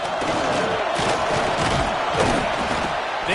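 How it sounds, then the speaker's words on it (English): A dense, roaring football stadium crowd at an Auburn game cheers on the defense during a third down in the red zone, a steady loud wall of voices with a few thuds mixed in. "this crowd is getting behind this defense"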